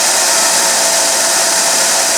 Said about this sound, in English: to the little sander here and round this end to start with